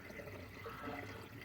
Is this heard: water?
yes